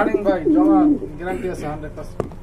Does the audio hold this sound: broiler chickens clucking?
no